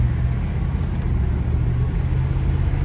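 A 1972 Chrysler Imperial LeBaron with a 440 engine, low on fuel, cruises along, heard from inside as a steady, loud low rumble of engine and road noise.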